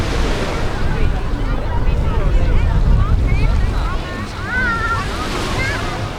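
Sea waves washing onto a sandy beach in Dubai, a steady broadband surf roar with wind buffeting the microphone, while people chatter and call out in the background.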